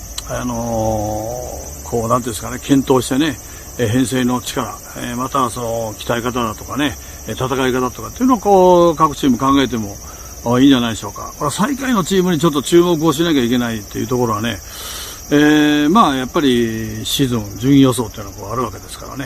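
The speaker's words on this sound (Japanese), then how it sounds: "セミの声がやかましくて" Cicadas drone loudly and continuously outdoors on a hot summer day, a steady high buzzing that runs beneath someone talking almost throughout.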